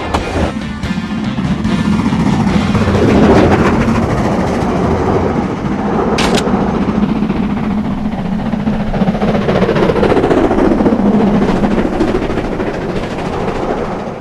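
A steam train passes through Palmerston North Square in New Zealand with a loud, continuous rolling rumble and chuffing. A brief sharp hiss or whistle cuts through midway, and no voices are heard.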